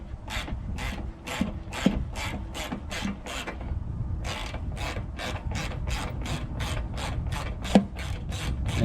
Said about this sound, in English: getting that 10mm bolt that's on the bottom of the headlight